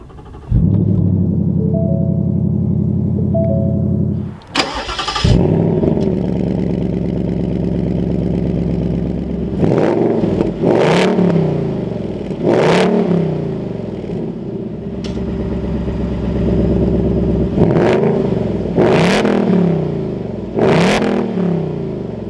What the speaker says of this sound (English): inside the GT, keep my foot on the brake, we can go ahead and fire it up